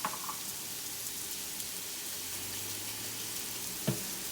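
Minced garlic sizzles in olive oil alongside poblano chile and onion, a steady, even frying crackle with a faint clink near the end and no talk.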